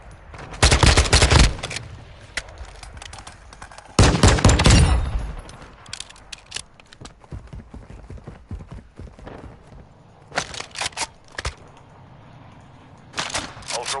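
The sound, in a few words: gunfire in video game Call of Duty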